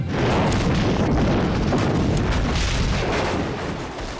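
Massed heavy-calibre artillery pounds fortified hilltop positions in a Korean War battle, a loud continuous roll of overlapping booms and blasts with no pauses, the rumble easing slightly near the end.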